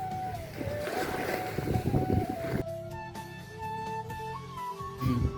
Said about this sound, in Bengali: আমি এখন সমুদ্রতে গাইস